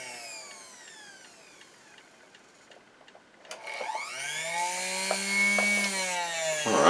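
Singer BU7e sewing machine motor started with a foot controller, a faint whine at first, then a louder steady electric hum and whir that rises in pitch and holds.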